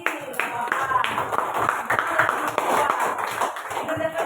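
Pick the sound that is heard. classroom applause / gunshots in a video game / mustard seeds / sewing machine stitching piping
classroom applause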